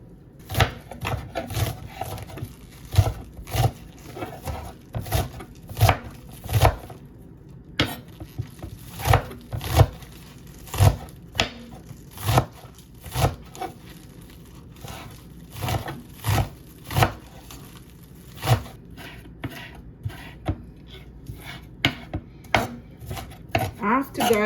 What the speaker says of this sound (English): I'm gonna chop these up.